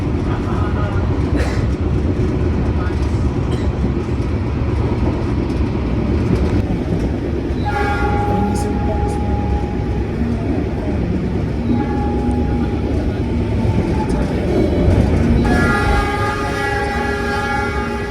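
Business-class train running from Mojokerto toward Surabaya via Sidoarjo, a steady loud rumble of rolling wheels and carriage noise throughout, with faint talk mixed in.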